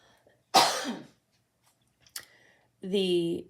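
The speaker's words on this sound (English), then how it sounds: "I'm just going to cough for a second." A single harsh cough up close, then a short throat noise after a pause, and a voice starting to speak at the end.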